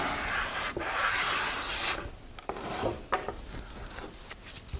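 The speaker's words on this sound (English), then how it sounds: "nothing beats, when you want it just perfect, nothing beats that long hand sand" Hand sanding with a custom sanding block, long rasping strokes over a surface, with several rough passes up close followed by quieter scrapes and light knocks, no voices.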